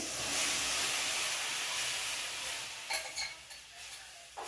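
Usal poured into sautéed spices in a pan, with a loud broad hiss of hot oil that gradually settles, followed by a few sharp clinks and scrapes of stirring.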